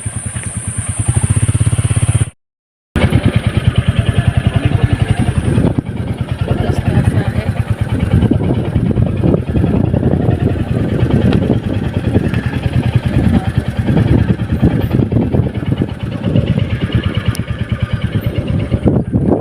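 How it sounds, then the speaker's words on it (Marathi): A vehicle engine runs steadily near farmland by Junona Lake in Chandrapur, a continuous close mid-pitched chugging hum with a brief cut partway through. "सोबत गाडीचा आवाज आहे"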